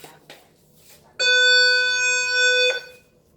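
Fire alarm at the Westin Airport Hotel in Toronto sounds one sustained, bright electronic tone for about a second and a half, following a few faint knocks in an otherwise quiet room.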